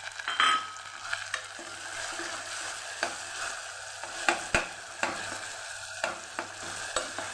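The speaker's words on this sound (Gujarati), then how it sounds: "ટમેટા સુધારીને રાખેલા લસણવાળી ચટણી તૈયાર કરીને ઉપર ઉમેરી એ આપણે હવે સાતળી લેવાનું છે આમાં" Chopped tomatoes and garlic chutney being sautéed with onions in a pan, a soft continuous sizzle broken by repeated scraping stirs and occasional spoon knocks, close and clear with no voices.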